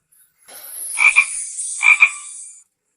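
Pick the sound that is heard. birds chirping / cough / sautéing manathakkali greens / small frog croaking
small frog croaking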